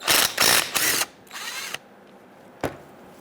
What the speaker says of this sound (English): So I'm gonna use a 13mm socket. Take out my bolts.